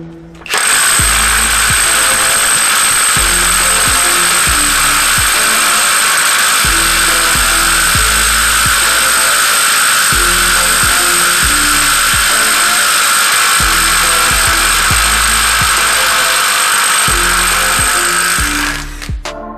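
A Matco 3/8-inch drive impact wrench runs a torque test at 600 foot-pounds, hammering loudly and steadily for about eighteen seconds with a high whine and rhythmic rattling pulses throughout, alone without talk.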